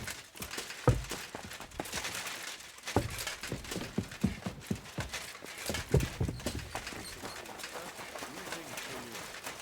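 Horse hooves clip-clop in sharp, repeated strikes throughout the Kingdom Come Deliverance II video game, with a faint whinny, steady bustle and voices talking in the background.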